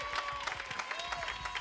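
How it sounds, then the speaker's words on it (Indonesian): A studio audience claps in a brief, dense burst of applause under background music, moderately quiet and steady. "Tepuk tangannya dong."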